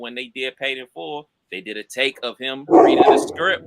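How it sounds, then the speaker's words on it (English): A dog barks in a short burst near the end, cutting in under and between ongoing podcast conversation as the animal reacts to someone approaching. "That's my dog. He sees somebody coming up, man."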